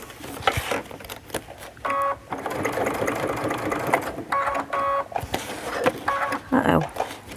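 A sewing machine stitches a zipper into a custom bag with a concealed pocket, running in short rhythmic bursts broken by pauses for pivoting, while a person talks throughout.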